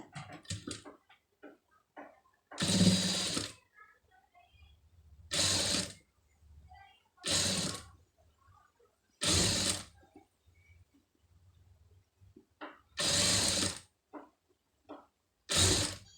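A sewing machine stitching piping runs in short bursts of even mechanical whirring, about seven separate runs split by quiet pauses with small clicks and fabric handling, close by and without talk.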